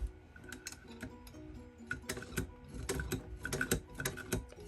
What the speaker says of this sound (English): Start our stitch.